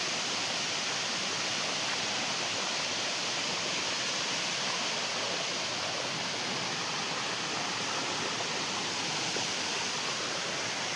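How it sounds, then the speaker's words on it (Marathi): Steady rushing water flows continuously in a village stream in the Sahyadri hills, a dense, even hiss like a stream or small cascade, with no voices. "व्हाळातनं पाणी असं वाहता."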